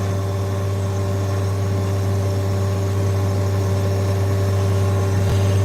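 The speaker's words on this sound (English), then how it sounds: "This tractor come from West Tennessee, up close to Matt Griggs." A West Tennessee tractor engine idles steadily up close in a cornfield, a loud constant low rumble with a strong hum that never changes pace, alone with no talk over it.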